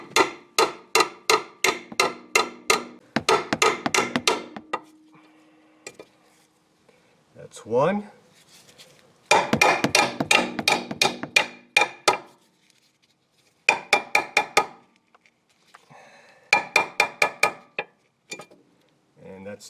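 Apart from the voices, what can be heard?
hammering out ball joint rivets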